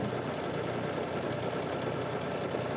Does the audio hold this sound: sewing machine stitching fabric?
yes